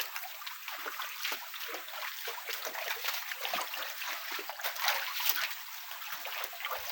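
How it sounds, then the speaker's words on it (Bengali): Water from a waterfall at Himchari hill flows and trickles nearby, a continuous bright splashing rush with slight surges and no talk. "পানির শব্দ একটু বেশি বেশি লাগতেছে না"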